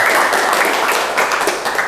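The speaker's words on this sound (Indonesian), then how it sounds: "Kita kasih tepuk tangan ya" Students in an automotive engineering class clap for a group that has just presented on checking and adjusting caster angle, a steady, fairly loud wash of many hands filling the room throughout.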